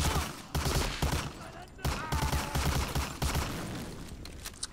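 Rapid, close gunfire in the shooter game Medal of Honor, repeated bursts of quick shots separated by short gaps, with voices talking over the firing.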